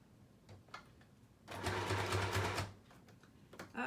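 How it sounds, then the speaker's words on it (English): A sewing machine runs in a quick burst of rapid, whirring stitches for about a second while sewing a hinged pocket for a journal, preceded and followed by soft handling clicks. "I'm going to go quickly to my sewing machine"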